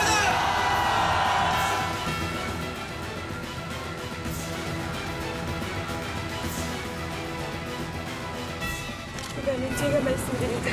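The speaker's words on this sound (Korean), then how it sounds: "뜨거운 박수 부탁드립니다" A studio audience at a Korean television broadcast applauds and cheers in a dense, sustained wash of clapping and whoops. It swells at the start and again near the end.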